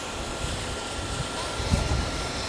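ANA Star Wars C-3PO jet airliner at Fukuoka Airport after pushback, a distant, steady engine roar and hum that fills the background evenly, with faint low thumps and no clear speech.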